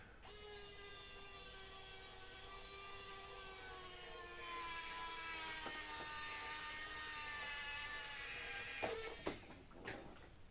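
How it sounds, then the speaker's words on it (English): A powered screwdriver drives a screw into a rudder control horn on a Sonic Hi Wing model plane, giving a steady whirring whine for several seconds before a few short clicks and knocks near the end. "See if I can finish it off with the powered screwdriver next."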